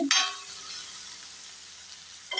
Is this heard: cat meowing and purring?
no